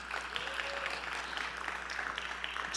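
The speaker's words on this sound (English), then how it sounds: "A round of applause." At a startup tour event in Mississauga, an audience applauds a co-founder being introduced on stage: moderately dense, fairly quiet clapping over a steady low hum, with a faint tonal whine briefly audible.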